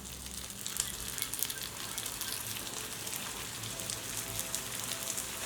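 Stuffed crispy snack balls frying on a paddu pan over a low flame, giving a soft, continuous crackling sizzle like light rain, faint and steady with no voices.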